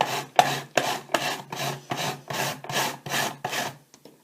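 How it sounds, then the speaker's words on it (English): Purple chalk is grated by hand for a craft project, giving a rhythmic series of about nine loud, even rasping strokes, each a dry scraping sweep, steady and close with no voices. "So you grate your chalk the way you grated it for the first art show"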